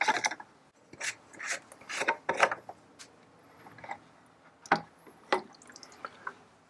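Irregular soft drips and wet squishy taps of water leaking from loosened fittings on a pool salt cell chlorinator, some clustered and some isolated, close and quiet with stretches of near silence between.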